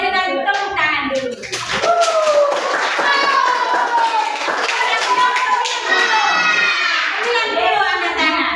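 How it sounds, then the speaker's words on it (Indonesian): Schoolchildren in a classroom clap their hands, brisk clapping mixed with lively children's voices and shouting throughout, close and loud. "Kita berikan tepuk tangan dulu."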